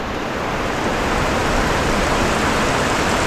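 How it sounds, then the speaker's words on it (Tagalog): Heavy rain pours down during a flood that has reached houses and the highway, a dense, steady hiss holding at one even, loud level throughout with no voices. "Biruin nyo itong ulan na to."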